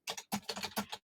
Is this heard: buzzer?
no